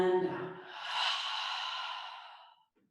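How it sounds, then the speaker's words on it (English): A deep breath in and slow audible exhale during a gentle vinyasa yoga flow, close and steady, tapering off into quiet. "Take a deep breath in. And out."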